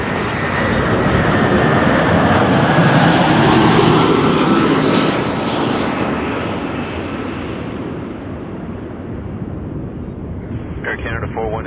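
An airliner takes off at Toronto Pearson, its engines roaring loudly and building to a peak before slowly fading into the distance, with a brief voice heard near the end.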